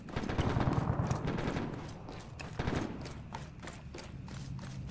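Gunfire in the military shooter game Arma 3: a dense run of distant, rolling shots and bursts, loudest in the first two seconds, then scattered cracks continuing at a lower level.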